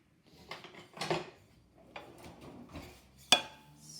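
A spoon is fetched from a kitchen drawer during a sourdough starter feeding: a few scattered metallic clatters and rattles of cutlery, then one sharp, bright clink near the end, all close by with no talk.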